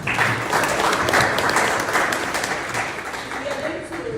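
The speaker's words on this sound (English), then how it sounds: "Please, can we have a round of applause?" Applause from a workshop audience on bioeconomy policy, science and technology, welcoming a speaker: dense, steady clapping that stays loud and close for about four seconds and only eases slightly near the end.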